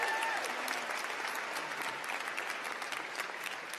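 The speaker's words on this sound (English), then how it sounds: "Another big cheer for them." Commencement crowd at a public health school ceremony cheers and applauds for graduating doctoral students, a steady dense wash of clapping heard at moderate distance.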